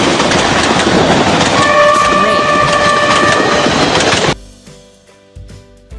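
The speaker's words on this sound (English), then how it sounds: "Train." A loud train rushes past with clattering wheels and a sustained horn blast, then cuts off abruptly to quieter rolling sound.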